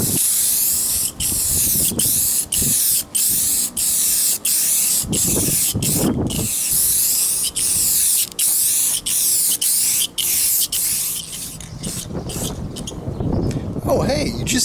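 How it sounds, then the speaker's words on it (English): Matte clear finish sprays onto Pottery Barn stools in a string of loud, close hissing bursts with brief gaps between them, and a voice talks toward the end. "I was just finishing up with this spray painting"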